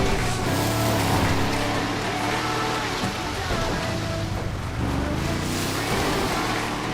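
Monster truck in GTA V ploughing through a deep river crossing, steady rushing splash and water wash over a low engine drone, continuous and fairly loud, with no voices.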